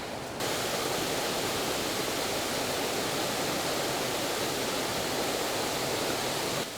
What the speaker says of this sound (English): So how's that for a nice big waterfall?